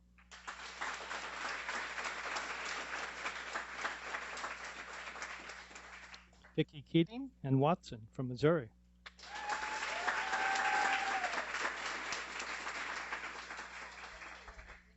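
Audience applause at a guide dog school graduation ceremony, a broad steady wash of clapping that breaks off for a spoken announcement in the middle and then swells back up, loud and sustained to the end.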